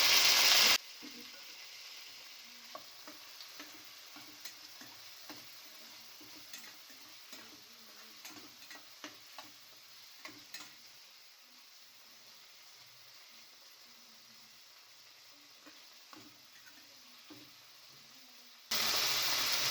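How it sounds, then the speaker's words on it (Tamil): Chopped tomatoes frying in a pan with already-sautéed onions for a vegetable kurma, giving a steady soft sizzle with light scattered ticks and pops of stirring, alone and fairly quiet throughout. "2 பெரிய தக்காளி நறுக்குனது சேர்த்துக்கிறேன்"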